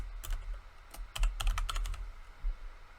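Bursts of keystrokes on a computer keyboard while someone types a command into a terminal, quick uneven clicks close up and fairly quiet, with no voices over them.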